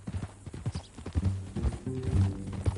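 Horse hooves clip-clopping in the Western open-world game Red Dead Redemption 2, a close, uneven run of hollow hoof strikes with a soft whinny-like snort partway through.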